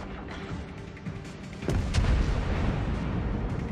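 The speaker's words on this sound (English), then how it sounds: "Torpedo hit." Naval combat in Sea of Fortune: a torpedo strikes with a deep, rumbling explosion that swells midway and rolls on, low and heavy, over steady engine-like background noise.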